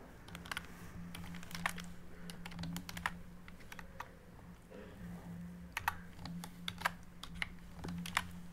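Rapid, uneven keystrokes clatter across a computer keyboard as Python code is typed out, the clicks fairly close and alone against a steady low hum.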